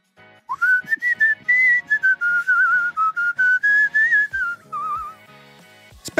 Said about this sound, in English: I mean, heck, I can whistle.